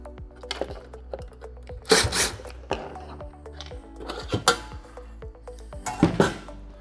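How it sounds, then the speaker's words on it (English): Screws come out of the access panel on a ducted air conditioning unit, with scattered light clinks and taps of metal at close range and short gaps between them. "So let's go ahead and remove these screws right here on the panel"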